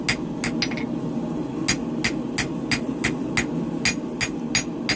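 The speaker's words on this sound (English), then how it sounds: "I'm using the round side of my hammer to move a lot of material quickly here" Sharp, ringing hammer blows on a hot steel tanto knife blade over an anvil at a blacksmith's forge, struck with the round face of the hammer; a dozen or so close, loud strikes in an uneven rhythm.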